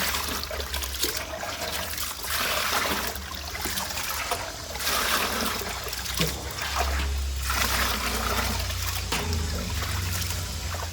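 Chicken meat washed under running water, a steady loud splashing and trickling wash that continues throughout at close range, with occasional handling thumps.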